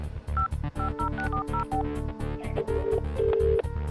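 A telephone being dialed, with a rapid series of distinct DTMF keypad tones followed by longer steady tones, clear and close over a low background hum.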